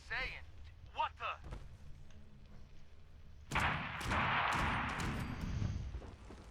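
In Fallout 76 Wastelanders, a sudden loud blast erupts midway into a rumbling explosion with a long noisy tail, following moments of brief talk and quieter sounds beforehand.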